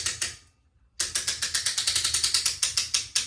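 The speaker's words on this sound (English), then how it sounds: "I'm gonna make sure my ratchet's on. Should be able to hear it." A bow draw board's ratchet clicks sharply and rhythmically as the bow is cranked back, a brief pause followed by a fast, even series of close, crisp clicks with no talking.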